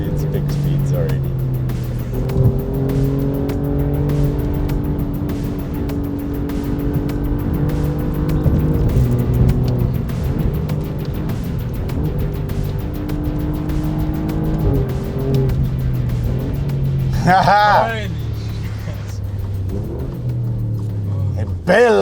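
A car builds speed on an open road, its engine droning in rising and falling tones with a brief high rev sweep near the end, while a person talks excitedly over it.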